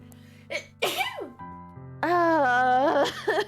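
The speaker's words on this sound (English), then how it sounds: "Of course I have to sneeze." A person sneezes in a drawn-out fit, with short wheezy intakes before the explosive sneeze, then a long strained vocal moan and a second smaller burst, close and loud.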